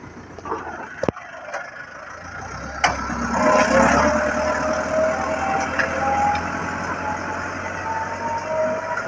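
A Massey Ferguson 385 tractor engine runs steadily at close range with a low continuous drone and a few sharp mechanical knocks, and the sound rises slightly after the first few seconds.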